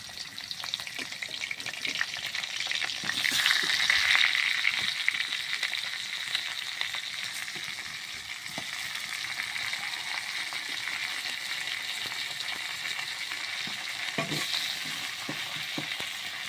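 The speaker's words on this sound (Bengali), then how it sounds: "তেলটা ভালো করে গরম করে মাছগুলো ভেজে নেব।" Fish frying in hot oil, a steady, close hiss and sizzle that swells slightly early on, then holds level for the rest of the clip, with no talking.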